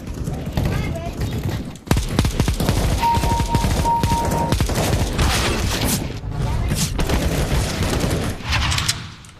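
Rapid shotgun and rifle fire from a CS GO match crackles in dense bursts almost throughout, loud and continuous, with a brief lull near the two-second mark and players talking over it.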